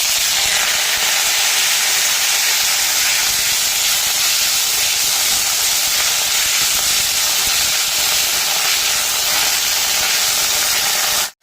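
Drumstick (moringa) leaves sautéing in a hot pan give off a loud, dense, unbroken hiss close up that holds steady for the whole stretch and then cuts off abruptly.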